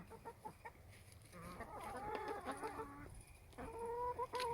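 Hens cluck and chatter in short, uneven bursts, fairly close, with several birds overlapping at times and no talking.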